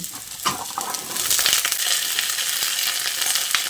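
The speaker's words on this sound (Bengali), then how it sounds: "পুঁই শাকের ডাঁটাগুলো দিয়ে সব কিছুর সঙ্গে ভালো করে নেড়ে চেড়ে মিশিয়ে নিচ্ছি" Malabar spinach stalks and brinjal pieces stirred and tossed in a frying pan, giving a steady broad sizzle that swells after an opening scrape, with faint spatula clinks and no voices.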